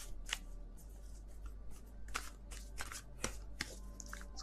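Tarot cards being shuffled by hand, with soft riffling and sharp snaps in irregular bursts, faint and close, with no talk.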